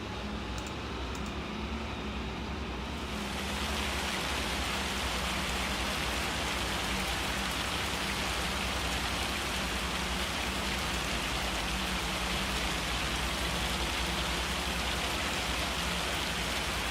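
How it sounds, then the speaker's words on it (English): Steady, dense rain begins after a few seconds in the Farming Simulator 25 video game and then keeps up as a loud, even hiss of falling drops, with no talk over it. "It's probably going to start raining here soon."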